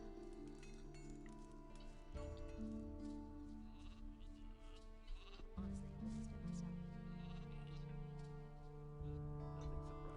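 Sheep bleat in Gothic 2's pastoral game world: several drawn-out, wavering bleats sound fairly close, one after another, over a steady ambient bed.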